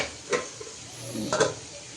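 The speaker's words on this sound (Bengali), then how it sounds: "এই যে মাছগুলো আমি ভেজে নিচ্ছি" Fish frying in a pan, a soft sizzle with a couple of brief stirring scrapes and clinks, fairly quiet and close.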